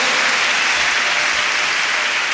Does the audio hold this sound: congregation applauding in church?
yes